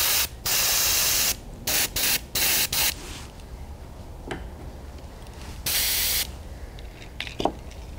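An airbrush sprays fluorescent green Createx paint in a firetiger vein pattern, giving loud, close bursts of hissing spray in short, irregular pulses, then a longer pass, over a quieter background hiss.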